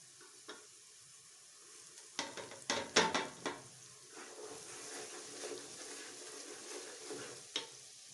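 Spices fry in a pan for a mixed vegetable curry, a quiet sizzle with a burst of clattering spoon-on-pan stirring in the middle and scattered scrapes after.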